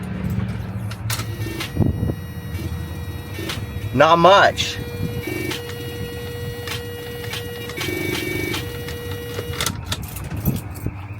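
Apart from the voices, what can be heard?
box truck clicking, failing to start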